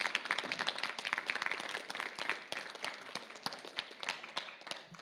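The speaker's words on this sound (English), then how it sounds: "Give him a good round of applause" Applause for a youth soccer award winner at a school sports awards night fills the room, a dense steady patter of many hands clapping with no voices over it.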